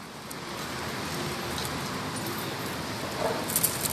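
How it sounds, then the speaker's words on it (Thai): Rain begins falling at an outdoor court, a soft, even hiss of drops spread across the whole stretch, with faint distant sounds near the end and no talk. "ฝนเริ่มมาแล้วครับ"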